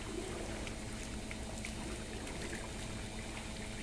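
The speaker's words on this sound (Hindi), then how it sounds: "और शुरू हो गया पानी आना।" Water begins to flow into a cow shed, a steady low rushing and trickling that stays fairly faint and continuous, with no voices over it.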